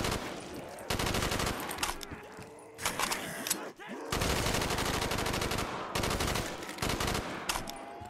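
Bursts of rapid automatic gunfire from a Roblox shooter game, loud and close, come in several long sustained volleys broken by short pauses, with a faint voice between bursts.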